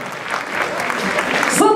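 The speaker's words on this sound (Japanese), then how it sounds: "戦ってくれた両チームに今一度大きな拍手の式" Brief burst of audience applause after a locking dance battle final at WDC 2015, with a crowd clapping and a voice rising near the end.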